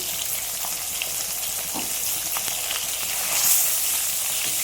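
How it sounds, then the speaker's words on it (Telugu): Small fish pieces frying in a pan with oil, a steady close sizzle and crackle with occasional faint stirring clicks, no talking. "ఇలాంటి ఫ్రై ముక్కలు కూడా ఫ్రై చేసుకుంటున్నాను"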